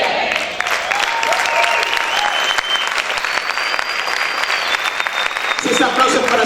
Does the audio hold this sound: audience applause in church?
yes